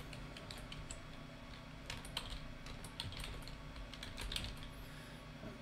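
Typing on a computer keyboard while entering a web address: light, irregular key clicks in short bursts, quiet and close, over faint background hum, with no talking.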